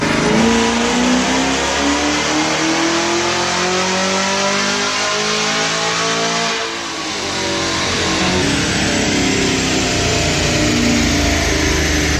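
Loud, steady engine roar from a supercharged Chevrolet Camaro ZL1 running a methanol-injected setup on a dyno, holding a high revving drone with a brief dip and swell midway, no talking.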